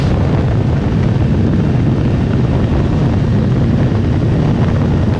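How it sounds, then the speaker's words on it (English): Motorcycle engine captured on a GoPro while riding, buried under heavy buffeting wind noise: a constant loud low roar with no break, the engine note hard to pick out. "So this is the sound straight from the GoPro with all that wind noise."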